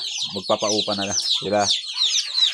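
Hens cluck loudly and repeatedly in a chicken coop housing newly hatched chicks, a run of close, rhythmic clucks over constant high-pitched peeping from the young birds.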